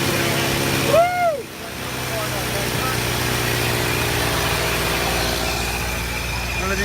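A 1929 Ford Model A engine catches and settles into a steady low idle, close by, after a brief rising whine at the start, with a person speaking briefly over the running motor.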